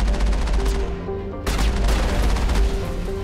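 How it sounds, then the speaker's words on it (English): Rapid machine gun fire in the video game Mass Effect, a loud dense stream of shots with a brief pause before the burst resumes, under a constant low rumble. "You can fire the machine gun with the right trigger."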